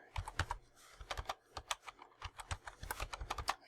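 Fingers tap quickly on a computer keyboard in short, uneven bursts of close, crisp key clicks with brief pauses between them, and no one speaks.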